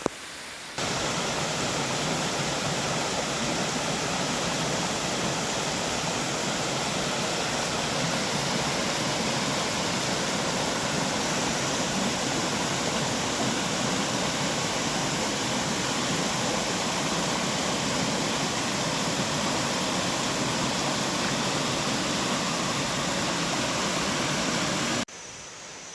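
Khlong Lan waterfall in Kamphaeng Phet Province, Thailand, pours with a steady, dense roar that fills the whole scene without a break, close and loud, with no voices over it.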